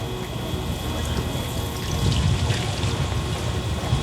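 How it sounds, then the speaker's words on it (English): Ghee poured into a hot pan of sweet potatoes, giving a continuous broad hiss and sizzle that swells slightly midway, steady and close, with no talk over it. "then I'm going to pour ghee over there"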